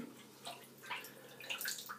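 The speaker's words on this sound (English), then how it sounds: "I'm going to add more water to that." Water is poured onto a synthetic shaving brush and soap, making quiet, uneven splashing and trickling for about two seconds.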